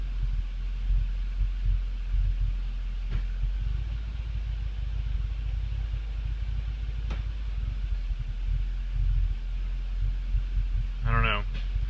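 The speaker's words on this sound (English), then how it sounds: "I'll let it run and get warmed up. It'll idle down yet." The 1985 Chevy C10 idles while warming up, a low steady engine rumble with a throbbing pulse running the whole time, close and unbroken.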